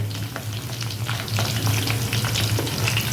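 Chicken pieces deep-fry in oil for a fried-chicken dish, a dense continuous sizzle with bubbling crackle heard up close and alone for a few seconds.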